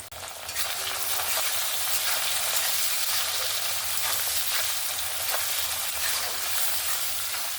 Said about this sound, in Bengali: পেঁয়াজ আর টমেটোটা ভালোভাবে ভাজা হয়ে গেছে।